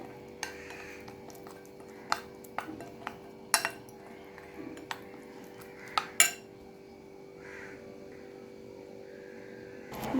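Rice flour batter being mixed with bitter gourd in a bowl: scattered clinks and scrapes of a utensil against the dish, fairly close, with quiet gaps between strokes and no talk.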